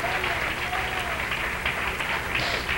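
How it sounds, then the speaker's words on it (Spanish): Congregation applause during a church service, a steady dense clapping wash lasting a few seconds, with a voice speaking over it. "Le pueden dar un aplauso de alabanza al Señor."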